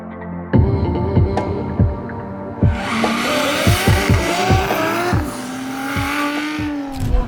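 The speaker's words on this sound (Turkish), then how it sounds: "Pro 2 klasmanı başlayacak. 4 araç yarışıyor." Pro 2 class drift cars at a competition in Turkey, engines revving and throbbing loudly with repeated bursts and a long rising tire squeal as the cars slide, close and continuous.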